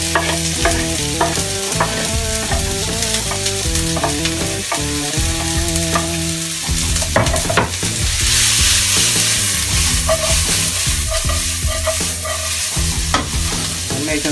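Vegetables hiss and sizzle in hot olive oil in a pan while being stirred, a loud, close, continuous frying roar with scraping and clatter from the stirring throughout.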